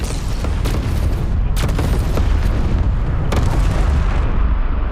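Spaceship weapons fire in the space combat game EverSpace 2, a dense run of booming blasts and sharp shot bursts over a heavy low rumble, loud and continuous, with no talking.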